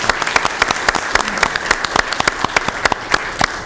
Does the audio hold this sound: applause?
yes